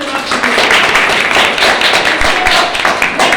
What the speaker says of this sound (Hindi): बहुत अच्छा, जोरदार ताली होनी चाहिए।